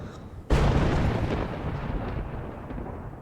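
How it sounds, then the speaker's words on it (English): Thunder in the Life is Strange video game, a sudden loud crack that breaks into a long rolling rumble slowly fading away. "Jeez, that thunder scared me."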